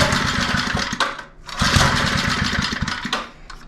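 Small engine of a broken lawn edger cranking and catching, then running in a rough, uneven idle that dips and surges twice, loud and close with no talk.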